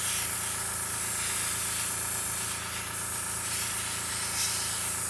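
A Gaahleri airbrush hisses in a steady, continuous spray as it lays down base coat paint over primer. The close hiss holds at an even level with only slight swells.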